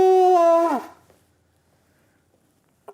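Tertuang, a traditional Malay horn made from buffalo horn, blown as one loud, steady, reedy tone that bends downward and cuts off, followed by near silence.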